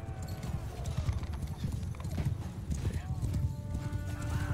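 Horse hooves clop steadily and closely in Mount & Blade as a rider crosses ground, with a whinny and someone talking in German over the rapid thudding gait.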